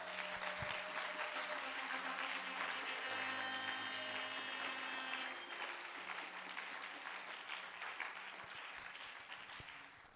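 A church congregation applauds the king, with sustained clapping and a faint tone of music under it. The clapping stays dense, then slowly fades over the last few seconds.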